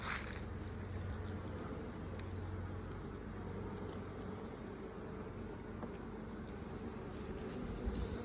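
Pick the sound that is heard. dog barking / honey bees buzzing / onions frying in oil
honey bees buzzing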